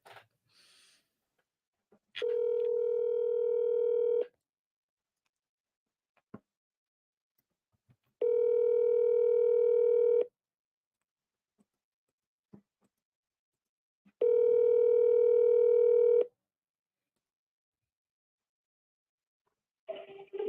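An outgoing telephone call rings three times. Each long, steady ringback tone is separated by about four seconds of silence, quiet and on its own.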